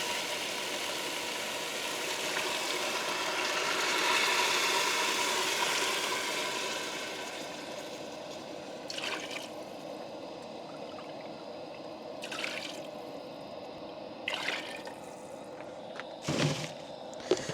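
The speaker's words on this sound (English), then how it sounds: "All right, now we're gonna add 6 cups of water." Water pours into a camping cooking pot holding pork in a steady rushing stream for several seconds, followed by quieter handling knocks and clatter.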